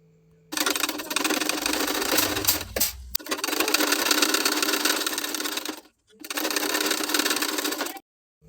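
A sewing machine stitching the main fabric to the lining of a blouse sleeve runs in three loud, close bursts with short stops between them, starting after a brief moment of quiet.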